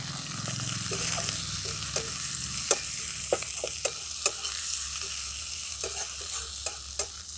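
Chopped onion sizzles in a pan with ginger and garlic, a steady frying hiss broken by scraping stir strokes and sharp clicks of the spatula against the pan, close up and without speech.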